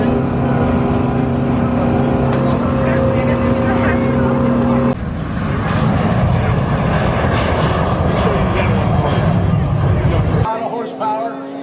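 Thunderbirds jets flying aerobatic maneuvers at an air and space expo, a loud sustained engine roar that shifts in tone as the aircraft passes, with an announcer's voice heard over it.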